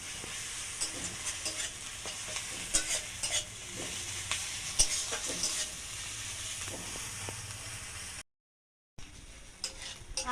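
Ginger-garlic paste frying with onions in a pan: a steady sizzle with intermittent scraping stirs and light clatter, close and moderately loud, broken by a brief moment of silence near the end before the frying resumes.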